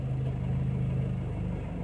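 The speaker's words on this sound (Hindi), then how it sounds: "देख सकते हैं आप गाड़ी अपने आप बढ़ रही है आगे" A car engine idles low as the car creeps forward in first gear while the clutch is slowly let out, a steady close rumble with a faint even throb and no talk.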